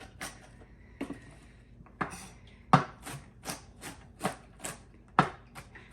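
Chopping back damaged loofah plants in a long, narrow garden bed, a series of sharp cutting thwacks spaced unevenly, nearby and fairly loud, with no talking.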